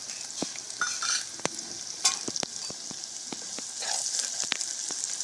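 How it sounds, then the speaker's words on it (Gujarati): Dried red chili and cloves tempering in hot oil for a Kathiyawadi Gujarati dish, giving a steady crackling sizzle with sharp pops and spits scattered throughout, close and fairly loud, with no voices. "તો વઘાર આપણો સરસ રીતે થઈ ગયો"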